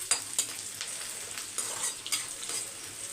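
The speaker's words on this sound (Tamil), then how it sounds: "இப்போ வதங்கட்டும்." Onions sauté in oil in a pan for vatha kuzhambu, giving a continuous close sizzle broken by sharp clicks and scrapes of a spoon stirring every half second or so, with no talking.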